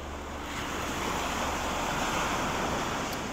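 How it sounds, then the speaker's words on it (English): Steady surf rolls onto the beach at the Ritz-Carlton Abama in Tenerife, Canary Islands, a continuous loud wash of breaking waves with some wind buffeting the microphone. "So this is our beach"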